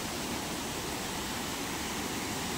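A monsoon waterfall in Chandranagar village, Dapoli, Konkan, with water pouring down from two places, makes a dense, constant roar of broadband rushing noise, close and unbroken.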